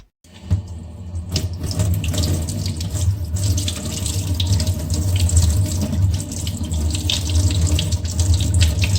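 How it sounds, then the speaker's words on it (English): Cold tap water runs steadily into a sink to cool and harden a freshly hand-molded plastic handle, a continuous close rushing splash that starts abruptly and holds level throughout. "So I'll just hold it under cold water now, and then it gets hard."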